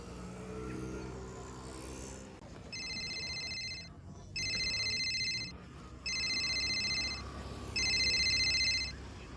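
A telephone rings out while a call is being placed: four evenly spaced electronic ring bursts follow a brief stretch of low background noise.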